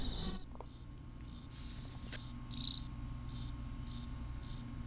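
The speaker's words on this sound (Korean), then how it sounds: "배짱이는 한 번에 길게 우는 습성이 있다" A katydid sings in a series of short, sharp, high-pitched chirps repeating at a steady, even rhythm, close and clear against a quiet background.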